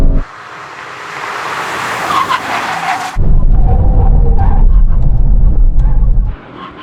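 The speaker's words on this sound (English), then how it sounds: "Let's do the brake test from 100 miles an hour. When we reach the line, full emergency stop." An Aston Martin brakes hard from 100 mph in a full emergency stop. A loud engine roar gives way to a long, harsh tire skid and scrubbing rumble that lasts several seconds before fading out.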